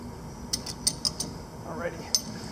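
Metal jaws on a lathe chuck being tightened with a chuck key, a handful of sharp metallic clinks and ratcheting clicks, close and fairly loud over a low shop hum.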